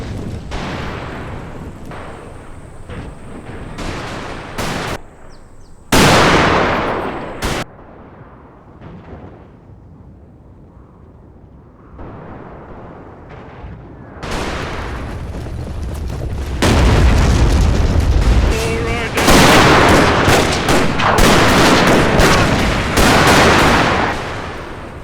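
British rifles fire in a Total War recreation of the 1898 Battle of Omdurman, with sharp reports and booming blasts scattered over a dense, loud battle din that swells into sustained heavy fire.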